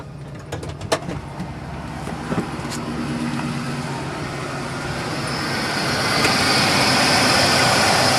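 A 1994 Ford F350 5.8L engine idles steadily and smoothly up close, a low even rumble with a few faint clicks early on and a hiss building toward the end.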